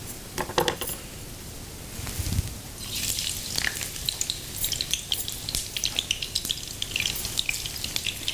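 Hot oil sizzling in a pan as onion and garlic fry for a Bengali dinner, a continuous close crackle with sharp pops and spits scattered throughout, and no talking.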